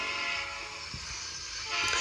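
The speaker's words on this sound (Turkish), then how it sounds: "Tren geliyor tren geliyor." A train rumbles nearby with broadband rushing noise, growing louder toward the end as it draws closer; no voices.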